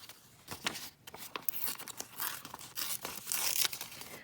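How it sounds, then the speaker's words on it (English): A piece of paper is torn down by hand for an art folio, a close, crackly ripping that comes in several uneven pulls and grows louder toward the end. "let's tear this one down"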